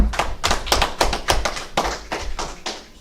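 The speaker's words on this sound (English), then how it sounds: "clap it up for him." A small group in a Hebrew language class claps hands, about nine sharp, uneven claps over three seconds, close and fairly loud, with no talking.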